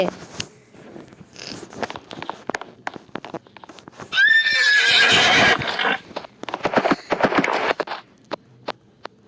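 Horse neighing in the Roblox video game, a loud whinny rising out of a run of short clicks and clip-clop-like taps, followed by more busy tapping sounds.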